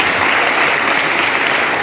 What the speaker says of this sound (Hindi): आप उनका अभिनंदन जोर से एक बार तालियां बजाकर करेंगे